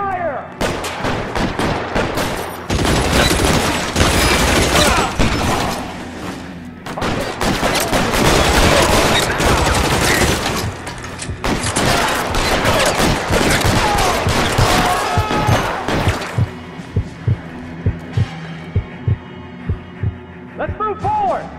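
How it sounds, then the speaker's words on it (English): A sustained shootout in the video game L.A. Noire, with dense, loud volleys of gunfire over a low rumbling hum, then thinning into spaced individual shots toward the end. "Covering fire!"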